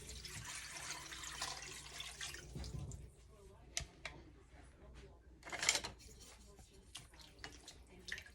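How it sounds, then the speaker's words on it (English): Water is poured into a pot over a roast for tamale meat, giving a rushing, splashing stream for a few seconds. Softer kitchen clatter and handling noises follow. "we're going to put it in a pot and then cover it with just enough water"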